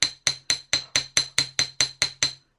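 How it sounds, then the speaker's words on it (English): Jewellery hammer tapping the end of a wire hook-and-eye clasp to flatten it, about ten light, evenly spaced metallic taps at close range, each ringing briefly, with no talk. "When we're hammering we don't push down with the hammer, we just let the weight of the hammer drop down"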